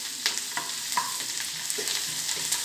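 Garlic and ginger sizzle in hot oil in a pan, with a steady close crackle and the occasional scrape of a spoon stirring.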